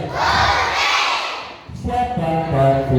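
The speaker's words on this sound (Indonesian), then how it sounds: "teriak hore" A group of children shouts "hooray" together in a loud collective cry at a storytelling session, then breaks into scattered excited voices and chatter.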